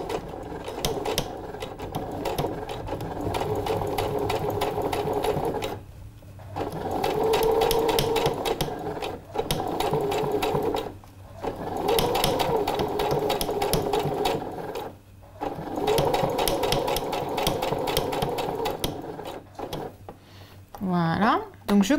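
Sewing machine stitching close to zipper teeth on a crop-top or blouse, rapid steady mechanical whirring in several long runs with short pauses between them; someone talks over it.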